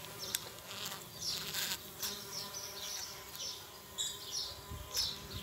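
Worker bees buzzing around hive boxes, a busy swarm of close, overlapping wingbeat drones with individual insects flitting past near the listener.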